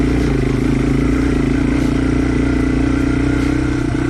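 A Yamaha TW200 dual-sport motorcycle on a rocky trail near Pagosa Springs, its single-cylinder engine droning loud and steady at a constant pace throughout, close up with no talk.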